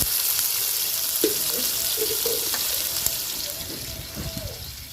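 Curry leaves drop into hot oil for a ridge gourd curry, giving a soft, broad sizzle and hiss with a few light crackles and faint background voices.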